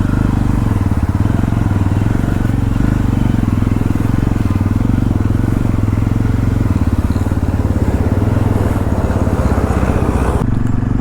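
A Yazdi Roadster motorcycle engine thrums continuously and loudly while being ridden, a dense steady rumble with rough low-end pulsing and wind noise throughout.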